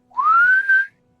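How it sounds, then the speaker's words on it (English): A single smooth whistle, rising in pitch then holding steady for under a second, from a wind chime swung overhead in a circle; loud and clear against silence. "almost like a continuous like whistle sound as you see someone stand up and just swing what looks like a wind chime around their head"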